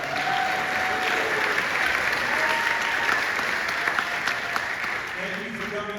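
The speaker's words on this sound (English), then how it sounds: "Thanks for your generous applause." Applause at the Iowa Democratic convention, a crowd clapping steadily and evenly throughout, moderately loud with a roomy sound.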